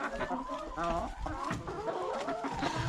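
Several chickens clucking and murmuring close by in an irregular stream of short calls, with some faint background noise.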